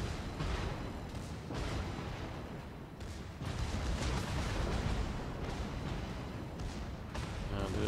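Yamato battleship main battery guns fire in World of Warships, heavy booming blasts rolling over dense, continuous battle noise, with a voice speaking over parts of it.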